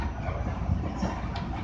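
A loud, steady low rumble and roar of an A subway train riding along the tracks, with faint rattling, heard from inside the car.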